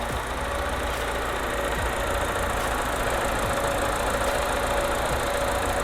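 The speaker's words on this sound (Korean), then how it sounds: "엔진 소리 일정합니다" Mini Cooper Clubman, a first-generation base model, idling steadily with the engine bay open; a continuous, even mid-range hum with a faint ticking texture holds at constant loudness throughout, with no talk.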